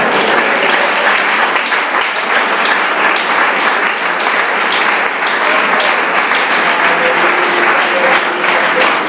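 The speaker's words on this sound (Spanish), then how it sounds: "Denle un aplauso al Señor en esta hora." A church congregation applauds steadily, a dense, sustained clapping that fills the room for the whole stretch with no voices rising above it.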